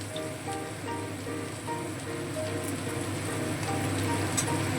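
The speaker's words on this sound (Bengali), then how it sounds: "এবারে আমি কেটে রাখা পেঁপেটা তেলের মধ্যে দিয়ে দেবো" Thinly sliced papaya goes into hot oil and sizzles and crackles steadily at close range, with a faint low hum underneath. No voices are heard.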